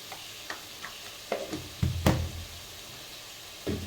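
Mutton sautéing in a pan: scattered clunks and scrapes of a spatula stirring, with a soft sizzle in between.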